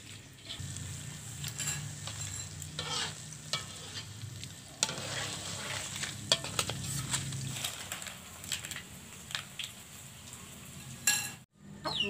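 Leaf chips of spinach, mustard greens, cassava leaves and water spinach fry in a wok with a steady bubbling sizzle, broken by stirring scrapes and occasional utensil clinks, close up.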